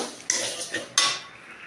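Fried mung dal is scooped from a pan into a large bowl, giving three short metallic scrapes and clinks of utensil against cookware, close and fairly quiet.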